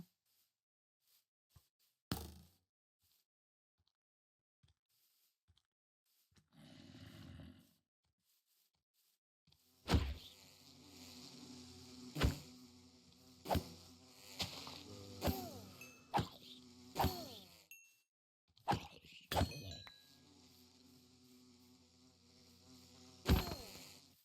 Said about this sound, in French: Mes amis, les abeilles.